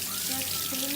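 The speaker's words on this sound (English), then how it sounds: "we have to put 30 milliliters of water in this cup" Room-temperature tap water runs briefly into a cup, a close and steady splashing pour about a second long.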